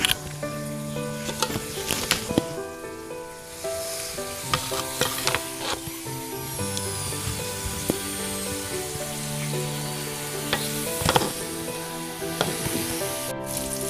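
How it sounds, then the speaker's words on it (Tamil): Yam pieces frying in oil, a steady sizzle with clinks and scraping of stirring throughout, continuous and fairly close without any talk. "இப்போது இன்னும் இருக்கிற மிச்சம் கருணக்கிழங்கும் நம்ம ஃப்ரை பண்ணிக்கலாங்க. அதே எண்ணெயில் எண்ணெய் போட்டுக்கலாம்."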